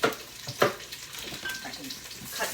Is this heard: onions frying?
yes